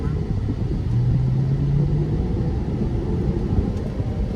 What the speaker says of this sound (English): the car does build up a lot of speed